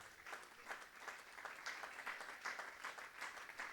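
A church congregation at a Sunday service applauding, a sustained bed of many hands clapping, fairly distant and even, without a break.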